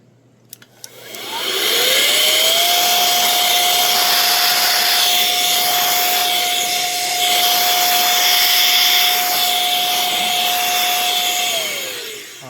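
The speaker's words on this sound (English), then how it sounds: "just a little dryer, to blow the dust off" A small dryer's blower motor whirs up, holds a steady high-pitched whine for about ten seconds blowing dust off wrestling belt plates, then spins down.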